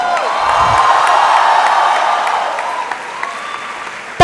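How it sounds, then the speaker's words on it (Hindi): Loud, dense applause from a big audience at a motivational event fills the room, with a few scattered cheers mixed in. "A huge round of applause,"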